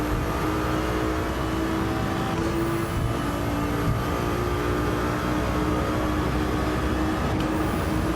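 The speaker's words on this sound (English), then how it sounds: "I love the sound of this car." A steady car engine drones continuously at close range while driving on a race track, a constant mechanical hum with faint tonal whine, no voices.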